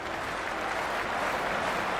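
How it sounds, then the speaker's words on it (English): Crowd noise in an IPL cricket video game before the first ball is bowled: a loud, steady wash of cheering and applause with no letup. "The crowd are making a heck of a lot of noise even before the first ball's been bowled."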